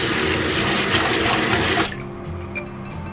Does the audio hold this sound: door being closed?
no